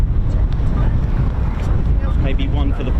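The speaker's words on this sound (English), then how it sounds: "with the wind like that, it was battering me about" Strong gusting wind pounds the microphone at an outdoor air display at RAF Waddington, a loud continuous low roar of buffeting with a voice faintly talking under it.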